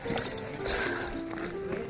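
Horses tethered at a tourist viewpoint in Matheran, with faint hoof clops and shuffling amid outdoor ambience and distant crowd murmur.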